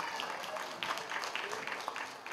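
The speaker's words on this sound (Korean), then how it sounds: "박수 한번 부탁드리겠습니다." Guests clap together at a first birthday party, a soft, steady patter of hands with a few sharper claps, fairly faint and brief.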